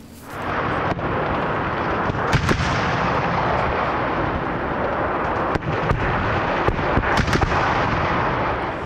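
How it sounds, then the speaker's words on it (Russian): Military live firing of hand-held anti-tank and automatic grenade launchers in mountains on the Abkhazian Black Sea coast, heard as a series of sharp, irregular booming shots over a loud, continuous roar, with no talking. "Военнослужащие выполнили боевые стрельбы из ручных противотанковых и автоматических гранатометов"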